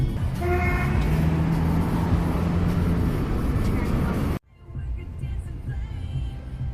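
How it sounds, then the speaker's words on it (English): Road traffic heard from inside a car on the way to the beach on Memorial Day, a steady loud rumble of engines with a horn toot early on, then a sudden drop to quieter cabin noise while someone talks. "Go figure, traffic everywhere,"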